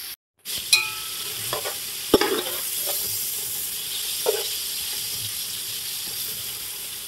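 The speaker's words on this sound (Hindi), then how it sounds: "अब प्याज को जो है वो सुनहरा होने तक हम इसे फ्राई कर लेंगे।" Onions frying for beef yakhni pulao, sizzling steadily in a pan with whole spices, with a few sharp clinks of stirring over the constant hiss.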